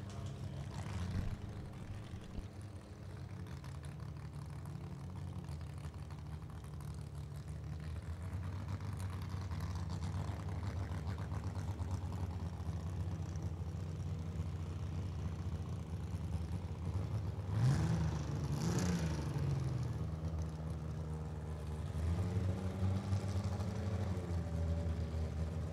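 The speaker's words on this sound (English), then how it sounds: "Either the 4-cylinder Eficano dragster of Jason Cohen over here on the right, or the Ford-powered 6-cylinder Steve Ambrose on the left." Idling drag racing cars at Lucas Oil Raceway, including a 4-cylinder Eficano dragster and a Ford-powered 6-cylinder car, give a steady low engine rumble that swells briefly with a rev near the end.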